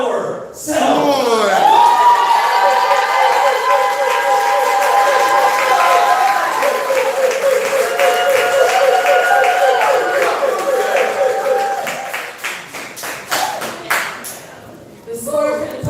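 Sustained audience applause with a few cheers at a Southern Fried Poetry Slam bout, loud and dense for many seconds before thinning into scattered claps near the end.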